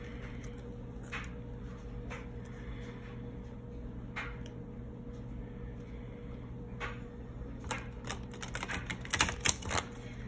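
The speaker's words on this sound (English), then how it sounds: "Let me shuffle in both cards." Soft, irregular clicks and light slaps of tarot cards being handled and shuffled, growing busier and louder toward the end, with a steady low hum underneath.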